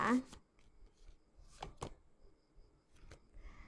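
Tarot cards are shuffled in a few short riffling bursts during a reading, quiet and close, separated by brief pauses.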